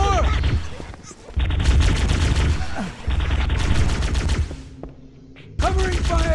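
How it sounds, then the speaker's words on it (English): Rapid gunfire bursts from the Halo video game, loud and dense in several sustained stretches, with brief gaps between volleys and a voice speaking over parts of it. "Covering fire!"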